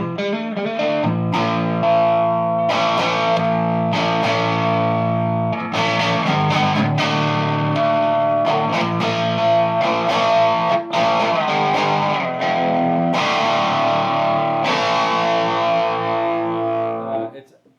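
Electric guitar played through a Weber 6H50 tube amp, sustained overdriven chords and notes with effects and slight chorus, loud and continuous throughout with no talking.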